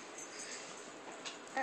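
Puppies whimper softly while a baby feeds them indoors, a faint, steady, thin whine with a brief louder squeak at the end.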